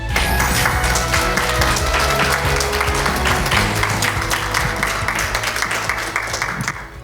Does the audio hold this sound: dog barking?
no